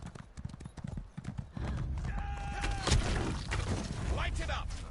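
A horse steed in The Elder Scrolls Online, with rhythmic clip-clopping hooves and a clear whinny midway, amid game effects.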